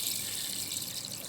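Tap water runs steadily while raw meat is rinsed in a home kitchen during Nigerian ogbono soup cooking, a continuous hissing splash with no talk over it.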